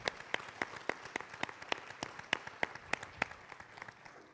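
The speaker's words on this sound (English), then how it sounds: "A round of applause, please, for our nominees." Sparse, faint applause from a conference audience greets award nominees at a city awards meeting, with distinct individual claps in a loose, steady rhythm over a soft room background.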